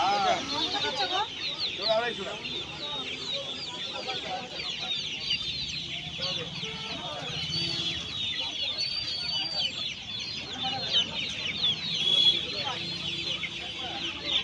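Chickens cluck and squawk densely and continuously at the Uluberia hen market, a busy Saturday poultry market in Uluberia, with faint voices in the background.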